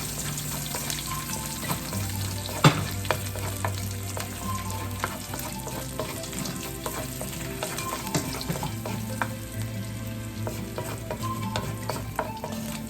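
Garlic frying in a pan for a Filipino sipo egg dish, a steady close sizzle broken by stirring scrapes and clinks, with a low hum running underneath.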